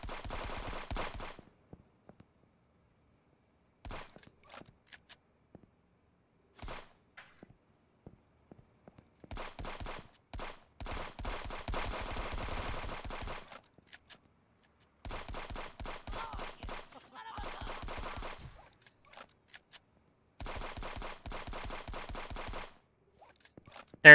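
Turret gunfire in an online multiplayer shooter, short rapid bursts of automatic shots that start and stop repeatedly, moderately loud and close, with no talk.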